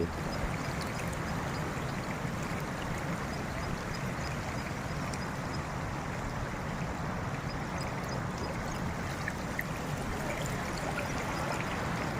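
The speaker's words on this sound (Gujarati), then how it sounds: "આખી નદી છે એટલે આખી ભરી છે." A flooded river after heavy rain, brimming to both banks, rushes in a steady broad wash of flowing water, constant and fairly close with no speech.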